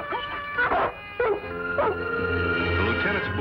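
An army dog in a radio drama whines and whimpers in a few rising, drawn-out cries, close and clear over a low sustained background tone.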